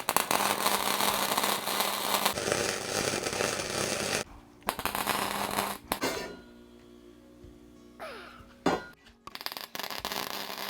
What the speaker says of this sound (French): J'ai fini de souder le cadre.